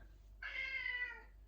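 A cat meows once in a drawn-out, fairly clear call lasting nearly a second, indoors in a quiet home in Germany, with no talking over it.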